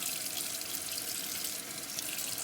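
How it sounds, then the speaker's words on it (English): Water running steadily into a hot water heater tank, a continuous hissing rush with no breaks and no talking. "So we're filling the hot water tank"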